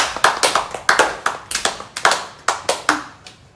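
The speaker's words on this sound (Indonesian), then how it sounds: "Berikan aplaus untuk Ayu." Classroom applause for a student: a few people clap in a brisk, fairly even rhythm, loud and close, with about a dozen distinct claps and no voices.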